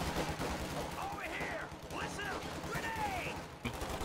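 Machine gun fire in the real-time strategy game Company of Heroes 2, rapid bursts under a caster's steady commentary, with whistling incoming shells and battlefield noise mixed in at moderate level.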